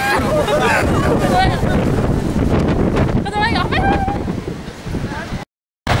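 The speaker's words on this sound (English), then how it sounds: "it's windy" Strong wind buffets the microphone with a steady low rumble at the Twelve Apostles on the Great Ocean Road, Victoria, Australia, with voices talking throughout and a brief dropout near the end.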